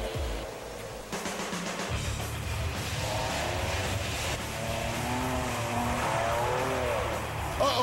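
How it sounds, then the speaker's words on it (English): A race car spins out on a wet track in a figure-eight supercar battle, with a loud engine roaring continuously, revving and wavering with tire and spray noise throughout. "Uh-oh, PT spins it. Back on the gas"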